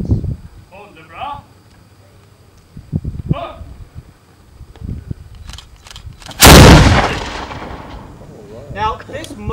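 A historic cannon at Fort Ticonderoga fires once during a demonstration, a single loud boom that rolls out and slowly decays, following outdoor talk and shuffling.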